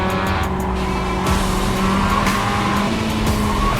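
Simulated Mazda MX5 race cars in iRacing run at steady engine drone, with tire squeal and skidding as a car spins into the barrier, a sustained loud roar without talk.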